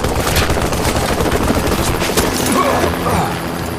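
Heavy, continuous gunfire and rapid bursts from attacking helicopters' big guns roar in a dense, loud barrage within an action audio drama, sustained throughout with cracks and booms layered together.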